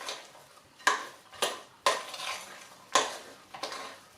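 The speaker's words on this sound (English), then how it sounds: "So in go the chocolate chips. I've got a mixture of milk and dark, and they just need a quick stir round." Milk and dark chocolate chips being stirred into cookie dough in a bowl, with a spoon clinking and scraping against the bowl in six or so distinct knocks, close and fairly quiet, no talking.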